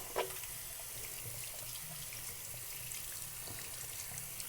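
Tap water runs steadily from a faucet as washed hands are rinsed clean, a soft continuous splashing stream heard alone at moderate distance.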